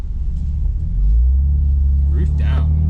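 A BMW G83 M4 convertible with an R44 titanium exhaust driving off with the roof down, a deep low engine rumble that thickens and holds steady as someone talks over it.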